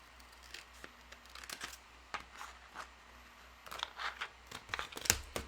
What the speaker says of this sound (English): I'm going to cut around it.